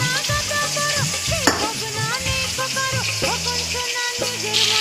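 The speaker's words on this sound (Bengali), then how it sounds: "এখন ইলিশ মাছ ভাজছি।" Hilsa fish frying in a pan of hot oil, a steady sizzle broken by repeated clinks and scrapes of a spatula or pan. Harmonic tones sit low beneath it, and a sharp knock lands near the middle.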